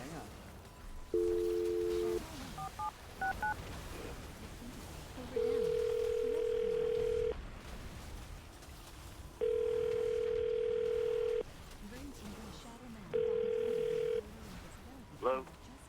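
A telephone call being placed: a short burst of dialing tones followed by a steady tone repeating in three long even pulses with pauses between, clear and close, with faint talk in the gaps.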